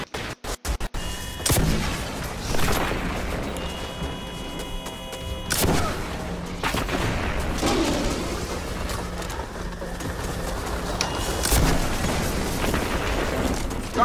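Grenade launcher explosions in the Destiny 2 shooter game sound as several sharp blasts and bursts of gunfire, scattered at intervals over a busy battle backdrop, fairly loud, with no speech.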